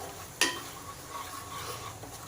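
Peanut chutney stirred in hot oil in a pan with curry leaves, garlic and chilli: one sharp scrape of the spoon near the start, then a soft, steady low sizzle.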